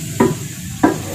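Whole garam masala is stirred in a cooking pot (handi): two quick scraping strokes of a spoon over a soft sizzle, close and clear.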